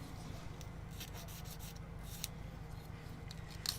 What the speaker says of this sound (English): So I'm just sanding off again